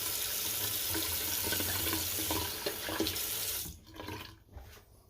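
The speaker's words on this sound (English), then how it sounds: "I think I'm gonna rinse to get ready for that third and final pass." Water runs from a tap into a sink for rinsing during a wet shave, a steady hissing splash that cuts off near the end, leaving faint trickles and drips.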